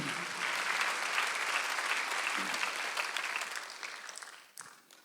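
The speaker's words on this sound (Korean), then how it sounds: "박수를 한번 드리세요." A church congregation clapping steadily during a Sunday service, then the applause thins and fades out toward the end.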